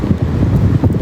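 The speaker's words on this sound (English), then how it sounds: "It's a nice windy night, but they're blowing the opposite way." Wind blows down a city street at night during a protest in Portland, a loud close rumble of gusts buffeting the microphone for about a second.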